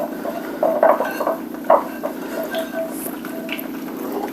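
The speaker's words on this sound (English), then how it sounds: "And then just give it a good mix." Seasoned potatoes are tossed in a bowl with salt, pepper and garlic powder for scalloped potatoes and ham, giving soft squishing and scraping with a few utensil clinks over a steady background hum.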